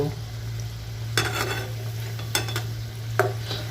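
Zucchini slices frying in hot oil with a continuous sizzle, broken three times by short scraping stirs of a utensil against the pan, close and clear without any speech.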